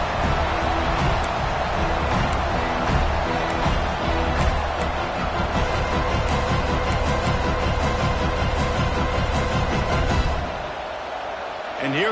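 Stadium crowd at a Pitt versus Florida college football game roars steadily through a field goal attempt, a loud dense wash of many voices that eases slightly at the very end.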